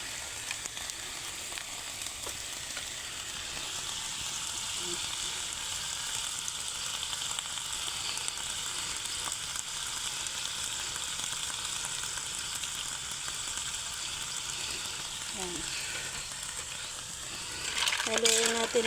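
Mussels sautéed with oyster sauce sizzling steadily in a pan, a continuous loud frying hiss throughout, with a few light stirring scrapes and a louder burst of stirring near the end.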